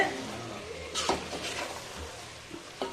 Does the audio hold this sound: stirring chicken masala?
yes